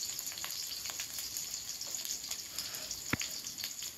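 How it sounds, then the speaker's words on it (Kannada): Onions, green chillies and curry leaves frying in hot oil for egg rice, giving a steady close sizzle and crackle, with one sharp pop near the end and no voices. "ಇದು ಚೆನ್ನಾಗಿ ಫ್ರೈ ಮಾಡಬೇಕು"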